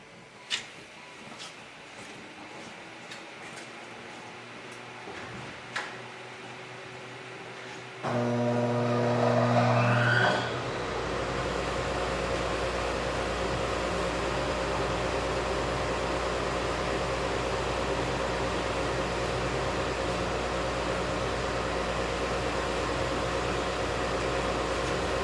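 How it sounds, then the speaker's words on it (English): A fan switches on to blow laser-cutting fumes into a suction hood, a brief loud hum rising then settling into a steady, even whooshing drone of moving air that carries on without any voices. "I just have a fan blowing on the laser and then it's blowing it into the hood for the suction."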